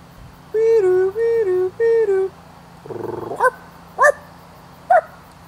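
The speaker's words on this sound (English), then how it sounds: "when dogs bark." A dog sound played in a children's story reading: three drawn-out tonal whines, then a rough growl-like burst and a few short, separate barks, loud and close with no talking over them.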